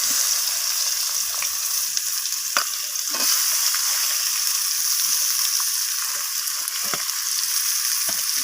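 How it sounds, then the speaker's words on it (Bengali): Chopped onions fry in oil with a dried chili and a bay leaf, giving a steady, dense sizzle with occasional light stirring clicks, heard close up with no voices. "তো পেঁয়াজটাকে আমি হালকা বাদামি রং ধরা পর্যন্ত পেঁয়াজটাকে আমি ভেজে নেব"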